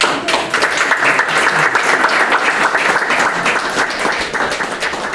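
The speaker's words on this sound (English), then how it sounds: "they deserve a round of applause" Sustained applause from people gathered at a town board meeting, honoring the Parks Advisory Committee; dense, steady clapping fills the room evenly for the whole stretch without pause.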